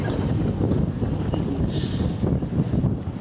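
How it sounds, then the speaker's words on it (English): Strong wind buffeting outdoors in Tiruvannamalai, India, a loud continuous low rumble with gusty swells throughout. "Getting quite windy, huh?"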